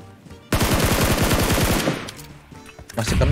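Automatic gunfire in PUBG Mobile from teammates: a loud, rapid machine-gun burst of evenly spaced shots lasting over a second, then tapering off, with a few more shots at the end.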